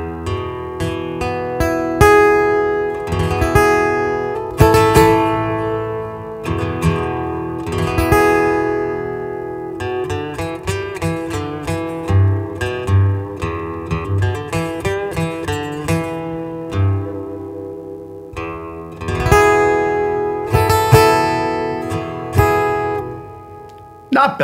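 Acoustic guitar played through a Sonicake Acoustic Factory pedal with reverb, strummed chords and picked single notes ringing close and bright, loud and alone, with lingering reverb tails.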